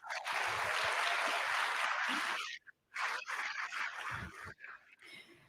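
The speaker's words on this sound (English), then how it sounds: "Please give them a round of applause." Audience applause at an integrity symposium, a dense sustained clapping that runs loud for over two seconds, breaks off briefly, then returns more unevenly and fades toward the end.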